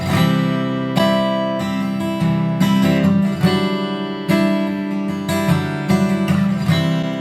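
Strummed guitar chords ring out alone, several changes with fresh strums every second or so, full and steady with no talking.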